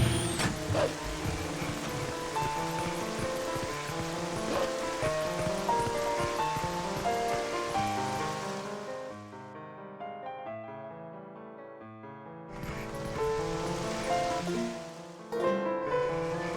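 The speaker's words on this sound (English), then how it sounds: "I just hate the rain." Steady rain hisses through a rainy scene in the video game The Legend of Zelda: Twilight Princess, a continuous wash beneath melodic game music that drops away for a few seconds before returning.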